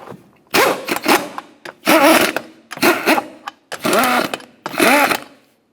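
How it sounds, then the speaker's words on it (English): A power tool runs down the lug nuts on a 2006-2011 Honda Civic rear wheel in five close, loud whirring bursts separated by short pauses, with no talking. "Now we can bottom out each of these lug nuts in a crisscross manner."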